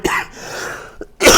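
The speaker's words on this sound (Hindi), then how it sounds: "खांसी हो गई है।" A person's cough in a quiet room where maths is being taught: a short throat-clearing cough at the start, a faint catch near one second, then a harsher, louder cough burst to close.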